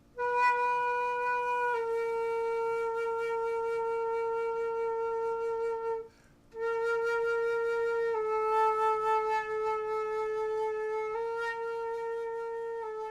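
Flute playing a slow practice line of long sustained notes, close and clear, with a brief pause midway before the tone resumes; no talking.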